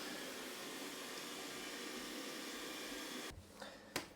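A Dreame X50 Ultra Complete robot vacuum and mop cleaner runs with a steady, broad whooshing hum, then cuts off, leaving a few faint knocks and clicks.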